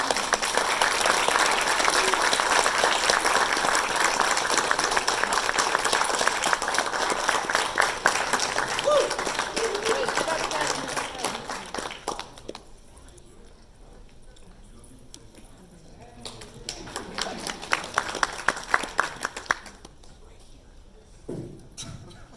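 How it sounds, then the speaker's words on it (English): Conference audience applauding the first paper presentation at SIGGRAPH 2019, dense steady clapping from a large hall for about twelve seconds, then fading to quiet room tone with a short later burst of scattered claps. "So, round of applause."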